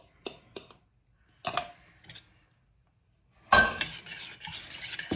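A whisk clatters against a bowl while beaten egg is mixed for a warm ginger cake, starting as a few separate taps and scrapes and then turning into a quick, continuous run of close metallic clinks.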